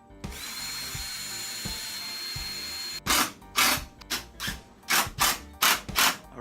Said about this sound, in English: I'm gonna drill the holes for the wheels.